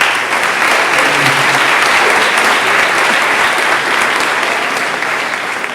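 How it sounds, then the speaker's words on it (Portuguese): A congregation at a youth church congress claps hands steadily and loudly, a dense, continuous wash of applause that fills the whole stretch without talk. "Louvem a Deus com as palmas em nome de Jesus."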